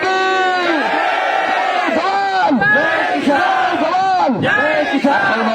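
A large outdoor crowd at a public religious ritual chanting "Bharat Mata ki Jai" in unison, loud sustained voices rising and falling in repeated call-and-response waves.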